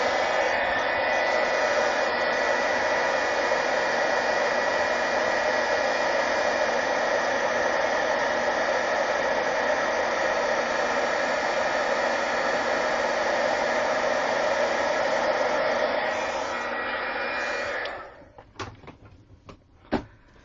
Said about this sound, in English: we're just going to hit this with the heat gun